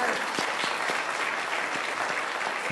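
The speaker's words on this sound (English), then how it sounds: "let's clap for all" Audience applause for sponsors at a youth awards show, a steady, even wave of clapping from a seated crowd throughout.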